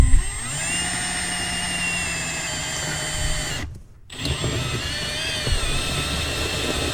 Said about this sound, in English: So I got the bigger hole saw, 1 5/16.